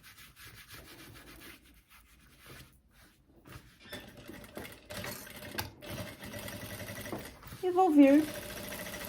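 A sewing machine stitches a seam in a faux leather midi skirt, running in short bursts with a rubbing, buzzing texture while someone talks quietly over it.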